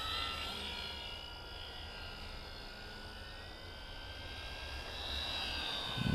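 Engine of an RC model Corsair F4U-4 airplane flying on a fall afternoon, a steady droning whine holding at moderate distance with a slight swell near the end.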